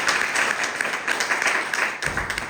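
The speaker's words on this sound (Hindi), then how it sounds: "तालियां जोरदार वाली होनी चाहिए।" Dense applause fills an indoor business seminar hall, steady and loud clapping from a large audience throughout.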